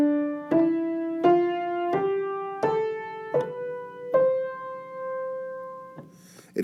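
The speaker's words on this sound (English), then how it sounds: "essentially, the major scale, to hear it, sounds like this" Single melodic instrument plays the major scale as a rising sequence of seven clear, evenly spaced notes, each ringing and decaying, heard alone without talk.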